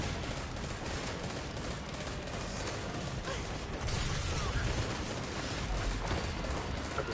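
Rapid, dense gunfire from a weapon in the video game Destiny 2 fills the clip continuously, loud and close, with bursts of shots running together without pause.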